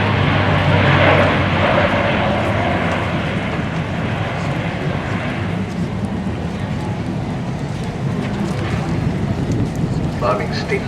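A Lockheed C-130J Super Hercules turboprop transport flying a display at the 2010 Farnborough Air Show, a loud, steady broadband engine roar that holds at close range throughout with some wind buffeting on the microphone.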